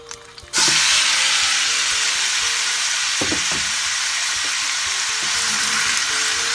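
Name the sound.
chicken sizzling in hot oil in a pan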